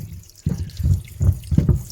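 Water splashes and trickles in short bursts onto wood end grain close by, a few quick pours with brief pauses between.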